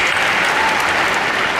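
Dense, sustained applause from a large audience at a rock band's hall of fame induction ceremony, loud and unbroken from start to finish.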